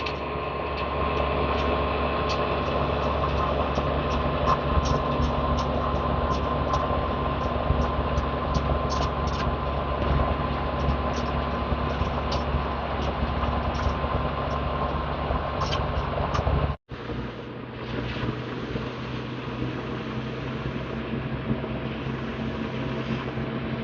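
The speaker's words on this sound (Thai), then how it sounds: "ตอนนี้รถไถก็กำลังจะมา ขึ้นร่องนะครับผม" A steady, loud diesel drone from an MXM 155 tractor working a strawberry field while raising planting beds. The engine runs unbroken and close, with a brief cut near the end before the rumble resumes. No one speaks.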